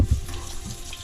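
Buckwheat is rinsed under running tap water, a brief, steady splashing rush close up with no talking.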